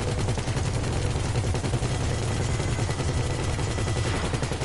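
Gunfire and missile fire in GTA 5, sustained rapid automatic shooting that rattles without a break for several seconds, loud and dense with no pauses and no talking.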